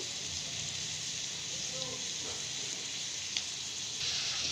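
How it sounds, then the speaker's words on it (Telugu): Onions frying in about three tablespoons of oil for chicken curry, a steady hissing sizzle throughout, moderately loud and even, with a faint voice underneath. "ఆనియన్స్ బాగా ఫ్రై అవ్వాలి కొంచెం ఆయిల్ కూడా ఎక్కువే పడుతుంది"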